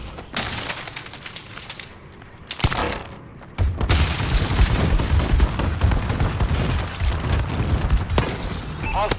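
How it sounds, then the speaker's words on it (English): Explosions from a friendly bombing run boom across a Call of Duty: Advanced Warfare multiplayer match, with sharp blasts and crackling debris followed by a sustained, heavy rumble of detonations and gunfire, loud and close. "Friendly bombing run clearing the way."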